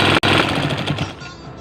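A sewing machine runs fast, close and loud as it stitches through a polyester bed sheet, a dense rapid mechanical chatter that cuts out for an instant, resumes, and then winds down and fades.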